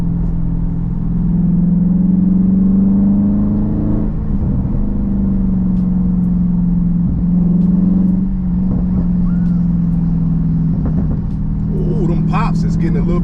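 A 2020 Dodge Charger 392 Scat Pack engine drones in a deep, steady rumble heard from inside the car, with a few crackling exhaust pops near the end.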